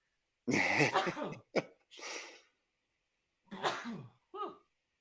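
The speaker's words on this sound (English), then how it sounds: "I'm about to sneeze, so hold on." A loud, noisy burst like a sneeze, followed by several smaller breathy sniffs and throat sounds up close, with pauses between them.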